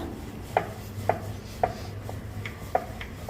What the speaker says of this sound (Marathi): चपाती कसं लाटतोय तसं रेग्युलर चपाती लाटून घेऊया